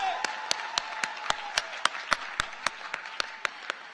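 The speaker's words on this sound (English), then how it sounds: "Give her another round of applause." Light, evenly spaced hand claps from a small part of the audience at a Bowie State University winter commencement ceremony, a steady beat of about four claps per second over a soft room murmur.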